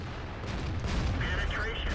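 A tank cannon shot strikes an enemy tank in the World of Tanks video game, a loud booming impact with crackling, rumbling decay, heard up close amid busy game noise.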